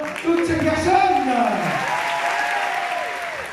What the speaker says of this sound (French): Je voudrais applaudir chaleureusement toutes ces personnes.